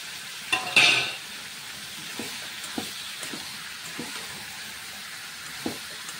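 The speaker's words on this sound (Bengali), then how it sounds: "সাথে পেঁয়াজ দিয়ে দিচ্ছি।" Onions frying in a pan give a faint steady sizzle, with a sharp clatter near the start and a few quiet stirring scrapes afterward, no voices.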